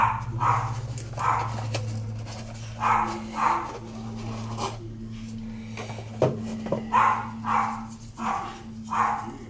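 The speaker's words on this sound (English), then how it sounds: "There's a flipping yapper." A small dog yaps in repeated short bursts, fairly close, over a steady low mechanical hum in a home with a gas furnace that is not working.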